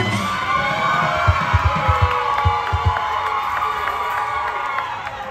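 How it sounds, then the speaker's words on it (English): An outdoor festival crowd at Pulaski Days, Wisconsin, claps, cheers and whoops for guest accordion player Chris Hedrick during a polka band set, with steady sustained applause and several sharp louder bangs in the middle. "have a nice round of applause for our guest accordion player"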